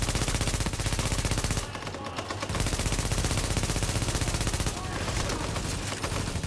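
Sustained enemy machine gun fire in The Division during an underground mission, a dense, continuous rattle with a brief dip partway, under faint voices.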